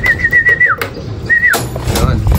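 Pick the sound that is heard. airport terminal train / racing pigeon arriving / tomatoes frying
racing pigeon arriving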